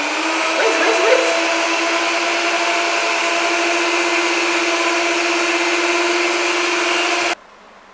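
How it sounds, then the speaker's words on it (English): A stand mixer whipping chocolate ganache runs with a steady, loud motor whine that holds for about seven seconds and then cuts off abruptly. "So back onto our mixer, and about another 10 minutes of whipping it up"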